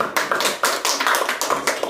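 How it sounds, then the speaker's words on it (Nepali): Audience at a film show clapping in a rhythmic, evenly spaced pattern of sharp claps, close and fairly loud, with no voices. "हामी ताली बजाउने छौँ।"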